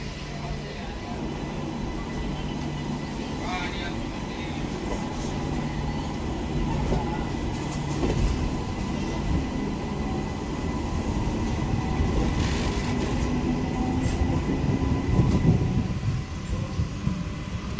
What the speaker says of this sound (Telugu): మన ట్రైన్ బోధన్ ప్యాసింజర్ రెండు ఒకేసారి బయలుదేరాయి